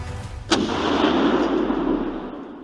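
A single booming cannon blast that hits hard and then rolls away in a long, heavy rumble.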